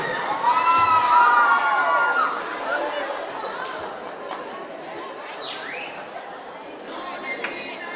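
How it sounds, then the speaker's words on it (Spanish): Cheering crowd with children shouting at a Miss and Mister Rafaela pageant talent show, loudest in the first two seconds and then settling into a lively hubbub with whoops and chatter. "Recibámoslo con un fuerte aplauso."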